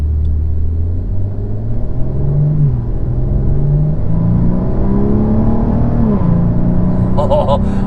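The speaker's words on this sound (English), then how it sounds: "Oh, that upshift was nice." A 2017 Maserati Quattroporte accelerating hard from inside, its engine rumbling and rising in pitch through a gear change, loud and continuous, with an upshift blip near the end.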